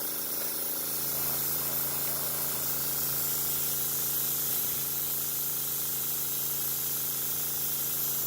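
A spray gun hisses out thinned Walmart paint in a steady, loud, unbroken spray that holds at the same level from start to finish with no pauses.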